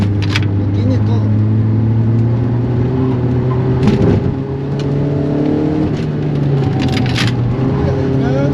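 A Peugeot 205 GTi engine drones steadily while driving in second gear, a loud close cabin hum with rising harmonic tones, and a voice talks over it throughout.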